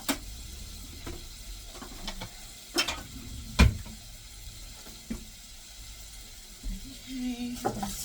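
An eggplant Italian dish is stirred in a pan, giving a few scattered scrapes and clanks over a faint sizzle, with one sharper knock partway through.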